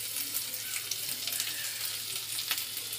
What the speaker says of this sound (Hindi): इसे अच्छे से भूनेंगे।